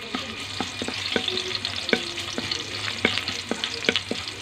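Garlic sizzles in a hot pan with a bright, continuous frying hiss, punctuated by irregular scraping taps from a utensil stirring, close and fairly loud with no talking.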